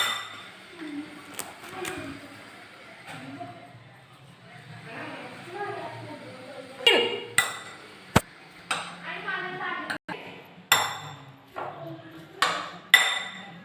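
Fruit salad stirred in a bowl by hand, with scattered clinks and taps of a spoon against the dish that grow sharper and more frequent toward the end, while voices speak quietly in the background.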